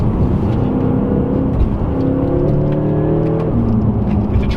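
A 2017 BMW M6 accelerating gently on a wet road, its engine tone climbing in a smooth rising whine that steps up through gears beneath steady road and tire noise, with no one talking.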